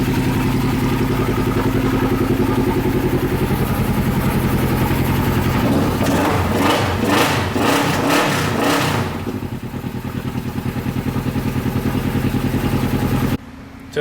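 A RZR side-by-side's engine runs steadily throughout, rising into a brief rev midway before settling back to a rough idle, loud and close with some mechanical clatter.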